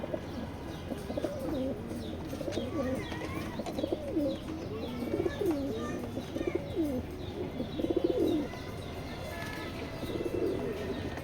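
Racing pigeons cooing in a loft, a steady layered chorus of soft throaty coos from several birds close by, with occasional chirps over a low background hum.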